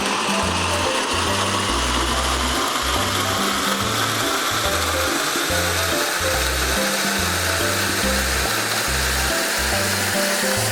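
A blender blending chili garlic oil whirs loudly in repeated bursts, its motor pulsing on and off in a steady rhythm, close and continuous.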